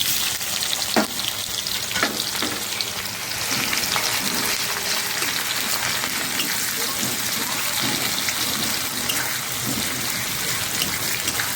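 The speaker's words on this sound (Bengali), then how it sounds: "পেঁয়াজটাকে হালকা গোল্ডেন কালার ভেজে নেব" Chopped onion for a chicken curry frying in a pan, a steady loud sizzle that runs throughout, with a few sharp ticks and light stirring near the start.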